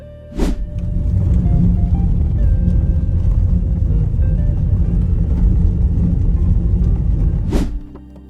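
A Land Rover Defender 110 X crawls over a riverbed of very uneven rocks at about 15 mph, giving a steady, close low rumble of road and engine noise framed by two brief sharp bursts at start and end.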